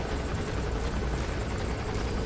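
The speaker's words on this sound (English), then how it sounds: "once the helicopter goes into its landing animation, it can no longer spot" A helicopter landing in Metal Gear Solid V, a loud, dense, continuous rotor roar and engine drone that stays constant throughout, with no voices.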